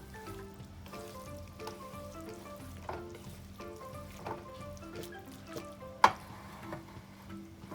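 Pasta sauce bubbles and emulsifies on low heat in a frying pan for a one-pan Japanese-style peperoncino, a soft steady simmer with gentle stirring and one sharp utensil knock near the end, close up with no speech.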